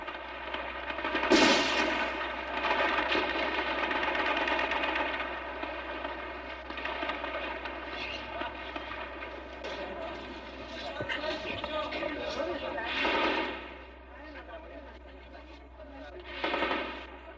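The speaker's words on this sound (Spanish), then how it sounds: "los tanques intercambian disparos con los carabineros de la Guardia Presidencial" Bursts of distant gunfire and rapid automatic shots crackle intermittently over a steady mechanical drone, with a hum underneath throughout, as tanks exchange fire with presidential palace guards during the 1973 Chilean military coup.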